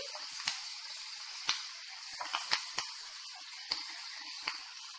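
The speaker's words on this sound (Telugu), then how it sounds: "మెంతికూరని బాగా ఫ్రై చేసేసుకోవాలి" Home-grown fenugreek leaves fry in hot oil, a steady close hiss of sizzling broken by scattered sharp pops and crackles.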